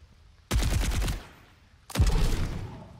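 Two heavy, booming Overwatch 2 gunshots, each followed by a decaying rumble, loud and close with a short pause between them.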